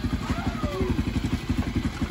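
A cold Rusi Smart 110 motorcycle engine runs steadily at idle, a close, loud, fast-pulsing putter with a slight mechanical clatter.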